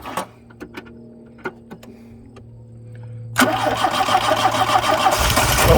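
A Shelby left parked for 20 years cranks with a few sharp clicks and whirs, then at once fires and settles into a loud, rough, steady running close by, growing fuller toward the end.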